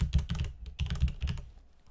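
Keystrokes on a computer keyboard typed at an awkward angle, a quick run of close, distinct clicks in two bursts, then trailing off into quiet.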